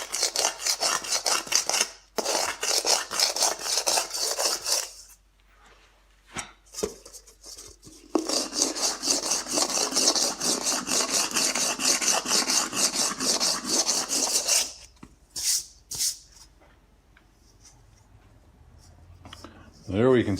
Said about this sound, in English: So I'm going to finish knocking the whole thing down with the sanding block